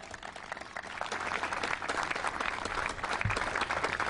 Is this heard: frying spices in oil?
no